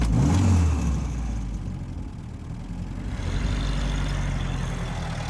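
A 1944 Jeep engine revs and pulls away, a steady mid-pitched drone close by that fades slightly as the vehicle drives off, with no talk.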